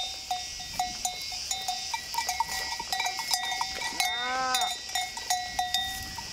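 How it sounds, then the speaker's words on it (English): Livestock bells, cowbell-like, clank irregularly from a grazing flock of sheep in Crete, with a brief animal bleat in the middle, all over a steady outdoor background. "Obviously, these are sheep there"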